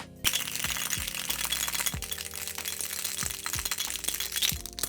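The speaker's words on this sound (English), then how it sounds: "We're going to throw some ice in here, give it a quick shake" Ice rattling hard inside a cocktail shaker while a gin basil smash is shaken, a dense continuous clatter with sharp clinks running steadily for several seconds, close and loud with no talking.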